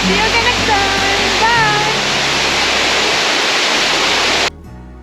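Waterfall on the Trail of 10 Falls in Silver Falls State Park, Oregon, a loud, steady broadband rush of falling water with faint tonal sounds over it, cutting out abruptly near the end into quiet.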